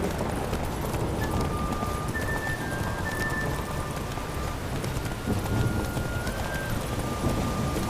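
Roach the horse gallops in The Witcher 3, a steady clip-clop of hooves running continuously at close range with a faint whistling tone over a dense, constant bed of noise.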